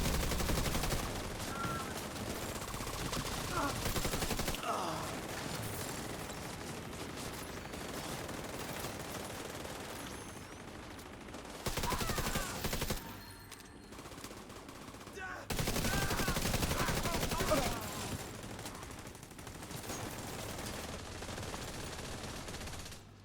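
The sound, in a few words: gunfire at a convoy in a video game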